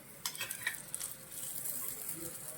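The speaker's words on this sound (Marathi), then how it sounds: "आता तुम्हाला मी पूर्ण परोठा तळून दाखवते पहा अशा प्रकारे तेल सोडायचं आहे" A vegetable paratha fries on a pan as oil is drizzled around it, producing a quiet, crackling sizzle with a few light utensil taps near the start.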